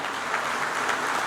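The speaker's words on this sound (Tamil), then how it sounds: "இடைவிடாது கைத்தட்டு கொடுங்க" An audience at a World Brahmin Association anniversary celebration claps continuously, a dense and even wash of hand claps that stays steady throughout.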